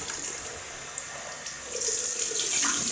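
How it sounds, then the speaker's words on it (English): A tap runs cold water into a sink for rinsing after a shave with a Gillette Ball End Tech double-edge razor, a steady close hiss of flowing water that swells louder partway through, with no voices. "Tell you, I'm going to use cold water."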